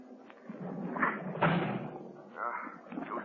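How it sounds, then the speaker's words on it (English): A door being slammed hard again and again by someone trying to break it down, in an old radio drama; heavy thuds land close and loud amid a voice and background murmur. "I'm going to try to break down the door."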